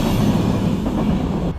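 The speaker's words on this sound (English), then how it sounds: "I'm currently waiting for a train." A train rolls past at a station platform, a loud, steady rumble of wheels and carriages that holds constant throughout and cuts off abruptly at the very end.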